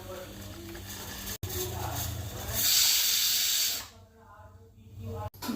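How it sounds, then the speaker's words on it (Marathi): Kitchen mixer grinder blending fresh white coconut: a loud whirring grind with a hissing, rushing texture that swells midway, then stops, leaving quieter room sound with a couple of sharp clicks. "पाठीमागचं काढून त्याला आपण मिक्सरच्या भांड्यामध्ये बारीक करून घेऊ"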